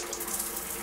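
Water runs steadily from a shower bag hung over a shower in a remote ghost town with no running water, a continuous close hiss of falling water that lasts throughout without talk.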